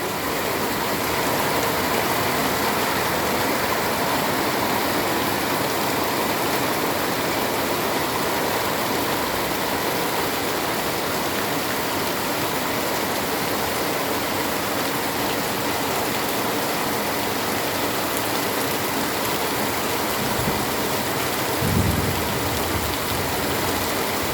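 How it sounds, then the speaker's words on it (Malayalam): Heavy rain pours down steadily in a dense, continuous hiss that never lets up, with a brief low thump near the end. "അടിപൊളി മഴയാണ് ഇത് നാച്ചുറൽ സൗണ്ടാണ് മഴയുടെ എഡിറ്റിംഗ് സൗണ്ട് അല്ല"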